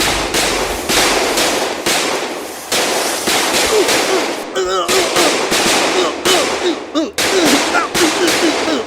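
Cartoon gunfire as a volley of bullets is fired at a skiing yeti, a dense, loud stream of rapid cracking shots that runs almost continuously for about nine seconds with short gaps, with voices and shouts mixed in.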